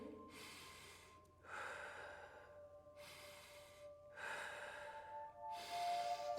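Slow, deep breaths in and out during a morning yoga session, several long audible inhales and exhales at an even pace, close and soft, with no talking.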